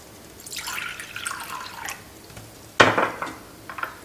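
Water poured into a bowl of curd in a home kitchen, a soft splashy stream running for about a second and a half, then a sharper splash and a few trailing drips, close by with no talk.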